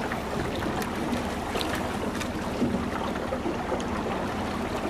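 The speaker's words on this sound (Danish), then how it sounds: "Bare lad åren glide igennem vandet." Oar strokes of a rowing boat on Furesø lake during a spring rowing practice, a steady low wash and swish of water with faint wind, no voices, fairly quiet.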